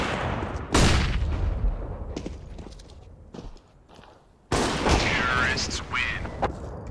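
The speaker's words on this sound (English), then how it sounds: "flashbang" Loud bursts of gunfire and a flashbang blast from the video game CS:GO, with sharp repeated shots, a lull midway, then another strong burst of combat noise.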